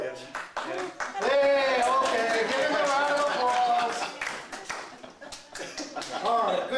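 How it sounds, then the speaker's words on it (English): A comedy show audience claps and cheers, the clapping running under loud overlapping voices and laughter that swell, fade briefly, then pick up again near the end. "give him a round of applause"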